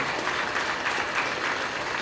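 Sustained audience applause at a stage comedy and mimicry show, a dense, even clapping that fills the whole moment, heard up close and without voices.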